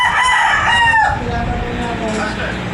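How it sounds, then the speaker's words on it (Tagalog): A rooster crows loudly close by amid noisy chickens on a home yard, the call's drawn-out note falling away into a steady background of clucking fowl. "Ang ingay ng mga manok namin."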